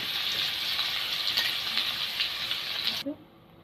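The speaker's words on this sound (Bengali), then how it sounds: "এবার দিব ফোড়নে পেঁয়াজ, এই তেলের মধ্যে ফোড়ন দিয়ে দেবো।" Onion and green chilli dropped into hot oil for tempering set off a loud, steady, close sizzle that lasts about three seconds and then cuts out abruptly.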